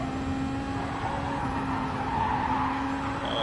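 Race cars in GT Sport, a Volkswagen Beetle closing on and overtaking a Ford, engines droning steadily with a sustained tonal whine and tire noise, loud and continuous throughout.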